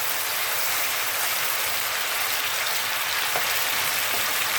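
Spices for a Madras curry cooking down in a pan, a dense, even sizzle like heavy rain filling the whole stretch, close and constant with only faint stirring touches.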